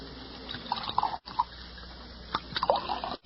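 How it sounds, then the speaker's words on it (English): Drink poured from a bottle into a glass as a radio drama effect, a faint glugging trickle with bright liquid drips and clinks, close and quiet, with a couple of abrupt cuts in the sound. "Set out a couple of glasses in that bottle you've got your hand on. We'll pour our own."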